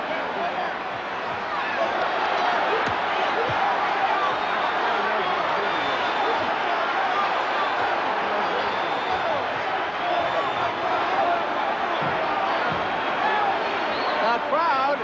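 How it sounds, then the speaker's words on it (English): Boxing arena crowd in uproar during the Frazier vs Ali fight, a dense continuous roar of many voices, loud and unbroken, with a commentator's voice mixed in. "The crowd, needless to say, is in a bedlam."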